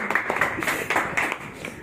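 Several people clapping along in rhythmic, evenly spaced bursts, fairly close and moderately loud, with the steady beat continuing throughout.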